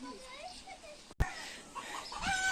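Chickens cluck in short bursts close by, with ducks and other farmyard fowl calling and background voices around them at a biopark.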